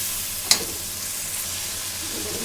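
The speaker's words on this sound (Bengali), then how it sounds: "জিরা বাটা দিলাম, হলুদের গুঁড়া, ধনিয়ার গুঁড়া, মরিচের গুঁড়া দিয়ে ভালোভাবে কষিয়ে নেব।" Cumin paste with ground turmeric, coriander and chili frying in a pan, a low continuous sizzle near the mic, broken early by one sharp clack of a utensil.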